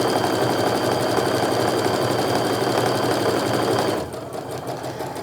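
A sewing machine stitches a quilt block with a steady, dense mechanical whir that runs continuously and loud, then drops to a softer, slower hum near the end as the stitching eases off.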